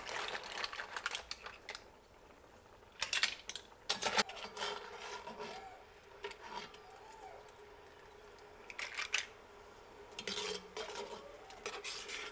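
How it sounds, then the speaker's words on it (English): Steamed mussels in white wine are scooped from a pot into a big bowl, with bursts of clattering shells and scraping against metal and ceramic between quieter pauses. "We take the big bowl we had before and we scoop out all of the mussels"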